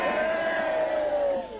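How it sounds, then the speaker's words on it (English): Spectators at the 1981 Surfers Paradise 300 motor race in Queensland cheer and whoop, a dense crowd roar with a prominent sustained yell, fading slightly at the end. "Plenty of cheers from the Queensland crowd."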